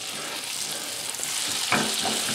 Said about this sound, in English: Put in the onions. Let those saute a little bit.